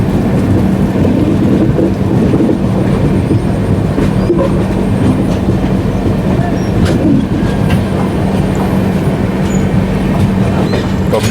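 The Neelanchal Express rolls along the track in a continuous heavy rumble, with rhythmic clatter and rattling carriages. It stays loud and close throughout, with no speech.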